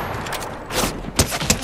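An automated turret fires in Fortnite. Short, loud bursts of rapid gunfire come in uneven clusters over a busy game background.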